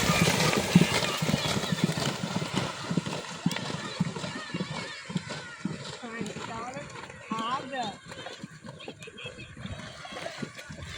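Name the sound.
horses galloping in a race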